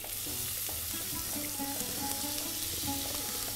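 Onions sizzle and fry steadily in a pan, a dense continuous crackle with stirring scrapes, close and fairly loud, with no talking.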